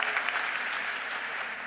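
Brief, steady applause from an audience at a school district faculty meeting, a dense, even patter of many hands at moderate distance, with no speech over it.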